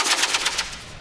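A toffee-fuelled model rocket fires along a cable outdoors, giving a loud, rapid crackling burst of sharp pops that fades over about a second, with no voices.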